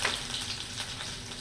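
Whole cumin, garlic and chili sizzle in hot oil after mustard seeds go in, a steady bright crackle filling the short moment with no talk.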